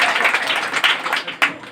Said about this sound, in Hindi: उनके भी जोरदार तालियों से स्वागत कीजिएगा